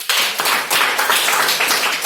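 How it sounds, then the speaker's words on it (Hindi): A classroom of schoolchildren claps together in a brief burst of dense, steady hand clapping that runs the whole way through, close and loud with no voices over it. "ताली बजा दो"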